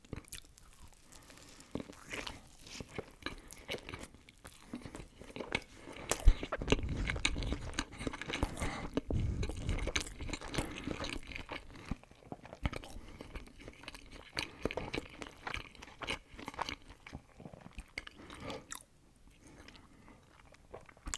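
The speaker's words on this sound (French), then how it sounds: "Il reste un petit oignon caramélisé que j'ai mangé d'ailleurs" Close, quiet chewing and crunching of a double cheeseburger with caramelized onion, soft wet bites recurring irregularly over a low background, heard alone without talk.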